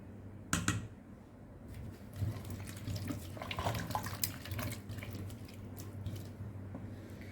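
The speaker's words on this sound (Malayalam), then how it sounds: "നമുക്ക് ആവശ്യത്തിനുള്ള വെള്ളം ഒഴിച്ചു കൊടുക്കാം" Water is poured from close by into a cooking pot of lentils and vegetables being cooked for a Kerala-style sambar, a steady splashing pour lasting several seconds with small clinks and no talking.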